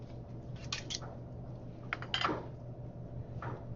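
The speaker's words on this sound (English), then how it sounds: "just like I'm doing with the bottom of a pan, the peppercorn." Peppercorns are crushed under the bottom of a pan in a kitchen, giving a few short, quiet crunching and scraping bursts with pauses between them against a faint background hum.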